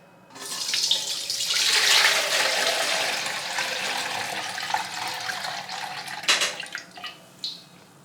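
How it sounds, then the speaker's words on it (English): Liquid poured off settled cassava starch at home, a steady close splashing stream that starts after a short pause, runs for several seconds, then trails off into a few separate splashes and drips. "I'm pouring off the liquid."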